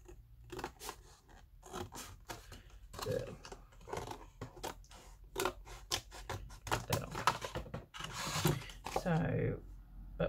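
Scissors snip through paper from an invitation pad in a series of close, crisp cuts at an irregular pace, with a voice speaking between some of them.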